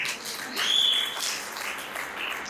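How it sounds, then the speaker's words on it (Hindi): Audience at a retirement function in Herbertpur giving a round of applause, a modest, somewhat distant patter of clapping that swells in the middle and tapers, with a faint high tone briefly overhead. "उन सब इंस्टीट्यूट्स के लिए भी एक बार जोरदार तालियां हो जाए"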